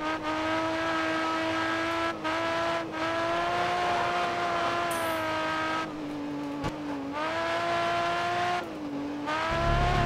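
Race car engine in GRID Autosport, loud and sustained, revving through gear shifts with brief dips and climbs in pitch at each change, running continuously near and alone.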